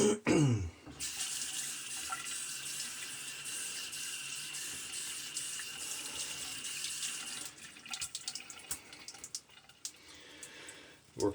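A bathroom tap runs steadily into a sink for several seconds as someone wets their face before shaving, a close hissing stream that stops near the end, followed by light splashes and drips.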